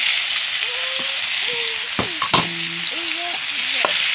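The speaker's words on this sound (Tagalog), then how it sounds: "Gigisa natin to para mas lalong masarap yung saladang puso natin" Banana blossom is sautéed in a pan, with loud continuous sizzling and frying throughout, stirring clatters, and a voice speaking briefly in the background.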